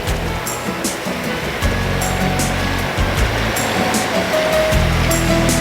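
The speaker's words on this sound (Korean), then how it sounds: "경치도 경치지만 이 끊임없이 귀에 들려오는 이 파도 소리가 너무 예뻐요." Sea waves break continuously on the rocky shore of Gaedo island, a loud, steady surf roar with repeated crashing surges and no talk over it.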